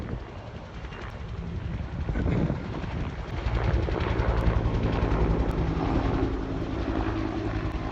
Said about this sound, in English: We're so close to this that we can hear the choppers, we can't see them.